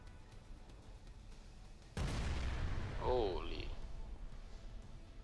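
Flak gun fire in the warplane combat game Sky Combat, a sudden loud burst followed by sustained rumbling blasts, with a short whistling sweep partway through.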